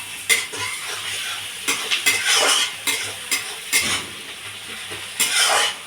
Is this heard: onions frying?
yes